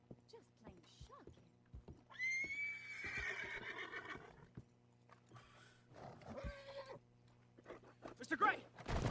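Horses whinny and neigh loudly in Red Dead Redemption II, mixed with clip-clopping hooves and a low steady hum, with voices speaking around the animal calls.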